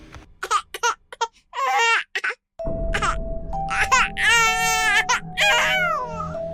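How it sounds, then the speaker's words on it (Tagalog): An infant cries in a horror story, first in short broken wails and then in longer, louder sustained cries set over a steady low drone, with a faint high tone running beneath. "unti-unti itong naging iyak ng sanggol."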